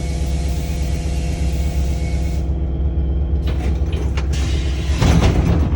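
A school bus kneels, lowering its suspension while parked in neutral, with a steady engine idle throughout, the broadband hiss dropping away midway and a burst of air releasing near the end.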